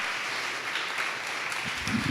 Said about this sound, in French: on peut l'applaudir parce que c'était quasiment une intervention